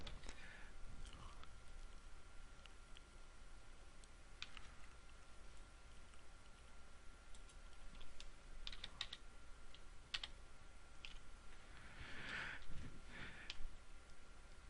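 Someone types on a computer keyboard, a quiet, steady patter of key clicks with a few louder taps, over faint background hiss and no talking.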